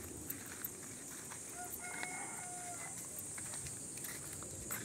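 Backyard chickens in a rural setting give faint, distant clucks and one brief crowing call, set in steady outdoor ambience with a constant high insect-like hiss.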